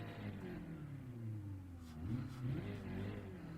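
A car engine in Gran Turismo 7 revs and holds, its pitch rising and dipping through steady mechanical drone, moderately loud with no talking.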